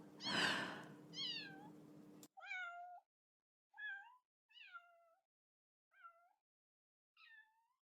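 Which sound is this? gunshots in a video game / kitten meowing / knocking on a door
kitten meowing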